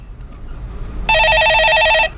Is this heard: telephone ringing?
yes